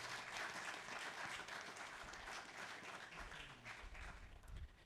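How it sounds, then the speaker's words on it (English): An audience at an inauguration ceremony applauds in steady, fairly distant clapping that gradually thins out, with a low murmur rising near the end. "I want us to give a round of applause to MOBA as an institution"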